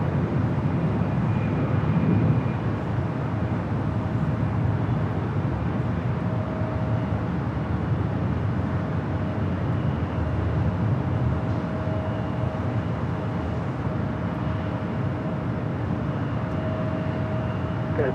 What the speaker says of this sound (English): Philippine Airlines Flight 102 coming in from Manila on the 777-300ER